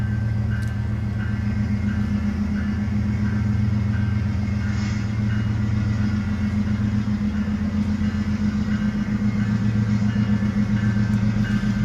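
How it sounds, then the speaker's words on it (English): Freight train led by GE AC4400 diesel locomotives rolls by, a steady, heavy low rumble with a droning engine tone held loud and close for the whole stretch. "Here comes the train. What do we got? AC 4400s."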